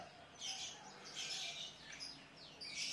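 Song of a white-rumped shama, a series of high, clear whistled and chirped phrases repeating at a moderate distance over a faint background hiss.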